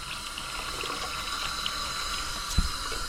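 Fish tank water poured from a cup into a worm bin, a steady close wash of running, splashing liquid lasting throughout, with one brief heavier splash near the end.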